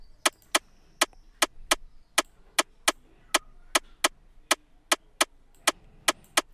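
A dry, wooden percussion hit from a dancehall afrobeats beat ticks out a steady, syncopated pattern of sharp, short clicks with near-silence between them.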